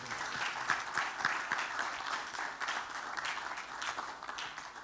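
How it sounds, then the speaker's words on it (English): At a Pan-African leadership conference and graduation ceremony, an audience gives sustained applause, a dense, steady wash of clapping at moderate level that holds evenly throughout. "Please give a round of applause to them."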